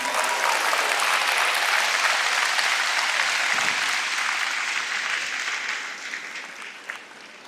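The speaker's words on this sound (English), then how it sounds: "Will you all give Boogie a thunderous round of applause as he comes down?" Applause from a live event audience, a loud, dense wash of clapping and crowd noise that fills the space, then gradually thins toward the end.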